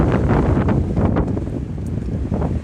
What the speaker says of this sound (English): it's blowing 50-mile-per-hour gusts.